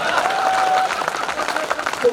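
An audience applauds at a kavi sammelan poetry gathering in Damua, with a dense patter of clapping that carries on under a person talking.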